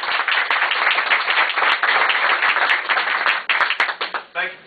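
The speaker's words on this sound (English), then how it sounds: "I'd like to get a big, warm round of applause for the Dare County Chairman, Mr. Pat Patterson." An audience claps warmly for a Dare County chairman at a Senate campaign announcement, a sustained burst of close applause that tails off at the end as a voice resumes.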